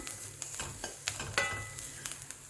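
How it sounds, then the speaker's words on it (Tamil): Onions frying in a pan for tomato sambar, a soft steady sizzle with scattered stirring clicks and scrapes, fairly quiet and close, no voices. "வெங்காயம் இவ்வளோ ஃப்ரை ஆனது போதும்."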